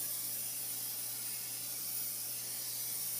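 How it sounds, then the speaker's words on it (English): A steady, continuous aerosol hiss of cooking spray coats the bottom of a cake pan for a few seconds without a break, close and even, with no voices. "shake it, shake up the spray, and spray the bottom"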